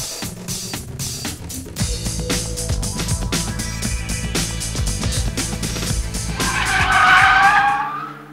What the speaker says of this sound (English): it's time now for the Formula Ford single-seaters to make their way to the track.